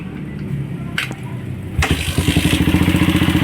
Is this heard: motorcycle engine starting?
yes